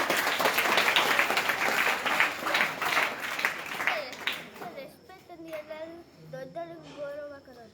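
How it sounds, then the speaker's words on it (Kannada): Students at a camp clap together in a lively burst of applause that tapers off, after which children's voices are heard talking. "ಅದಕ್ಕೆ ಚಪ್ಪಾಳೆ ತಟ್ಟಿ"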